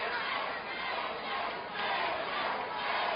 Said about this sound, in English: Crowd trying to cheer AJ on.